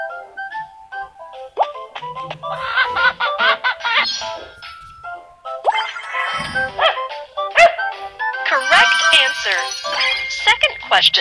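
Cartoon dog barks and yips in a Babybus kids' number game, several short tonal calls mixed with chimes and game effects, with a voice speaking over parts of it.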